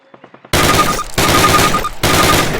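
Automatic weapon fire in the Call of Duty video game, loud sustained bursts broken by brief pauses, preceded by a few faint rhythmic clicks.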